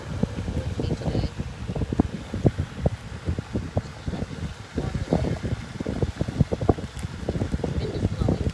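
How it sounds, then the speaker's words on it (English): Wind gusts buffet the microphone outdoors in Spring Lake, New Jersey, a rough, uneven rumble with frequent thumps throughout, while a person talks over it. "Wind is blowing."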